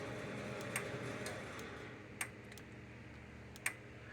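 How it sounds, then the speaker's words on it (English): The transformer of a Blitzer Hot Spark electric fence charger gives off faint, sparse clicks, a few sharp ticks spaced irregularly over a low steady hum, heard quietly up close. "That clicking sound comes from the transformer."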